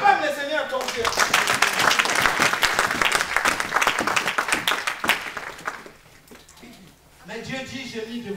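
A church congregation bursts into loud, sustained clapping and cheering during a sermon, dense and continuous for about six seconds before fading, with a voice speaking over the tail end.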